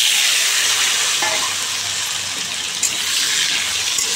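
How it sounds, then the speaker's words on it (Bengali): Potatoes fry in hot oil with bay leaf, dried chilli and whole cumin, a loud, dense, close sizzle that runs steadily with a faint scrape of stirring. "এবার আলুগুলো দিয়ে দেবো।"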